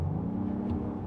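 A 2024 Acura MDX Type S plays an artificial engine sound through its speakers while accelerating: a low, even hum and faint whir, sustained and close for about a second.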